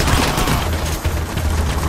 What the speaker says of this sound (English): I'm taking bullets from everywhere